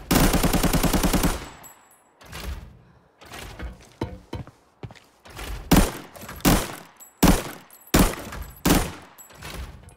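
AN-94 rifle in Arena Breakout firing a rapid automatic burst, followed by a string of sharp separate shots and short bursts with echoing tails, loud and close with brief silences between.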